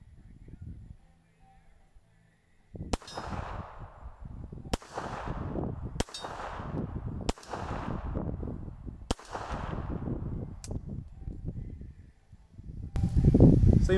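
A Cobra .380 ACP pocket pistol fires at a range: six loud, sharp shots spaced one to two seconds apart, the last fainter, with quiet rustling and handling noise between them.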